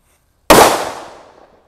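A single loud firecracker bang from a red happy flower firecracker bursts out sharply after a short silence, then crackles and fades over about a second.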